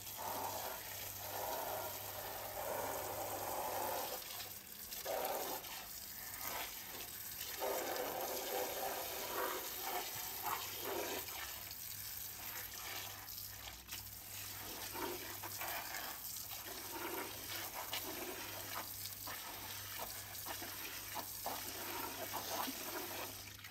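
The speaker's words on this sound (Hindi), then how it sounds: "तो यहाँ पर सबसे पहले जो है मैं पाइप से पानी डालती हूँ।" A hose pipe runs water onto a cat litter tray during cleaning, giving a continuous splashing, gushing flow that shifts in intensity, with a faint steady hum underneath.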